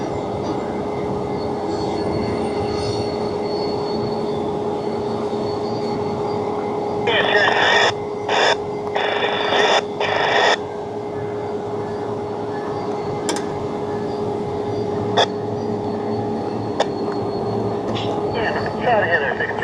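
A Lake Michigan & Indiana Railroad train idles and moves in a rail yard, with a steady engine drone and a clear tonal hum throughout, plus a few brief clanks and squeals in the middle.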